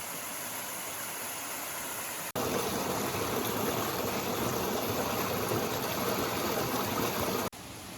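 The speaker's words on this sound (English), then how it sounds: "And look at this gorgeous waterfall we're sleeping next to tonight." A waterfall beside a Williams River campsite in the Cranberry Wilderness gives off a steady, hissing rush, heard from nearby at an even level, louder through the middle span.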